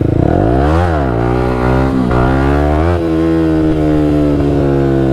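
A 125cc four-stroke motorcycle engine revs hard and holds high throttle during a wheelie, loud and close, with one dip and climb in pitch and a few brief throttle wobbles.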